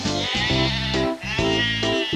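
A sheep bleats loudly and up close, two long wavering calls in a row with a short break between them.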